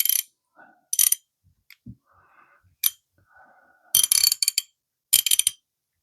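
A vintage Kraeuter USA socket ratchet from a 17-piece set, with worn plating, gives short bursts of fast, crisp pawl clicks close up, separated by quiet gaps and faint handling.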